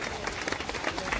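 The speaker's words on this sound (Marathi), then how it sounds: "जोरदार टाळ्या वाजवूयात अमरजी मोहिते यांच्या स्वागतासाठी" A crowd claps to welcome guests at an election campaign rally, a steady burst of applause from many hands at moderate distance, with faint voices mixed in.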